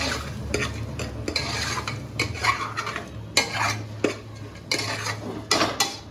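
Khichdo is stirred in a metal pot with a spoon, giving repeated scraping clanks in an uneven rhythm, close and clear over a low steady hum.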